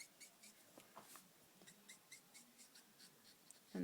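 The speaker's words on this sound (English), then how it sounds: "And this lovely streaking sound that I'm getting." Copic marker streaking across paper while colouring manga hair, faint repeated short scratchy strokes in a quick, uneven rhythm, close and quiet.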